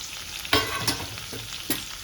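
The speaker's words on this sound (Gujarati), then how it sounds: "તો હવે આપણે કેરી અને મરચાં બંને એડ કરી દઈશું" Raw mango and chillies tossed into gunda frying in a pan, bursting into a loud sizzle with a few sharp hissing spikes as they are stirred, close and without talk.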